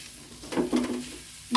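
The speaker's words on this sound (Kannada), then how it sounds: "ಇದೆಲ್ಲ 1 ನಿಮಿಷ ಫ್ರೈ ಮಾಡ್ಕೊಳ್ಬೇಕು" Finely chopped mint and coriander leaves fry in a pan for shavige pulav, a vermicelli dish. A brief, close sizzle swells with a stirring scrape, dips, then returns sharply at the end, with no talk.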